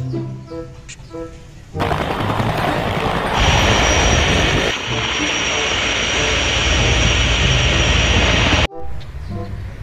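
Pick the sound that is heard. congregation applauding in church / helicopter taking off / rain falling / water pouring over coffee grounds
helicopter taking off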